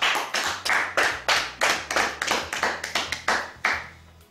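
A wedding congregation claps together in a steady rhythm to acclaim the Lord, about a dozen firm, evenly spaced claps close by, with a faint low hum running underneath.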